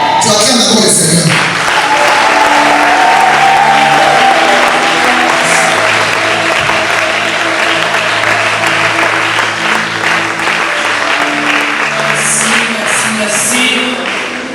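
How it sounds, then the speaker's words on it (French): A church congregation at a Sunday service applauds the Lord, sustained loud clapping from a large crowd lasting throughout, with music tones and voices beneath. "Tu acclames d'abord le Seigneur."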